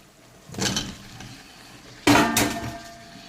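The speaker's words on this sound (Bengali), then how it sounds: "এখন আমি দিয়ে দেবো এই আলু কাটা।" Cut potatoes tipped into a pan of fried spices during home cooking, heard as two close clattering bursts of pieces hitting the pan with metallic knocks, the second louder, with no talk.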